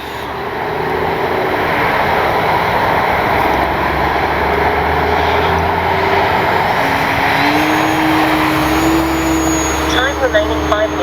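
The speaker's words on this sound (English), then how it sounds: "you gotta love PIPER Cherokee. Just a great flying plane." An E-flite Piper Cherokee RC airplane on 4S power flies steadily overhead, its electric motor a constant buzzing drone that shifts pitch slightly late on, with some wind noise and no talking.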